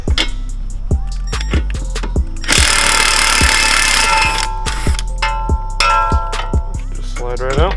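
A bolt being undone on a Mk6 VW Golf GTI strut knuckle with a socket tool, a loud rapid ratcheting click train with a brief buzzing burst of powered turning in the middle.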